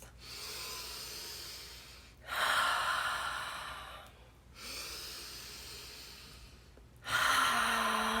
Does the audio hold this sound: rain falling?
no